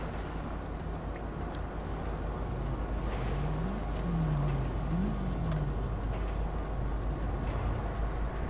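A Toyota Prado being parked in GTA 5 gives a steady, low engine rumble that hums continuously with faint pitch shifts as the vehicle maneuvers, with no voices heard.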